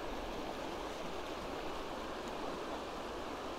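Steady rushing of flowing water, a stream babbling continuously and close by, with no voices.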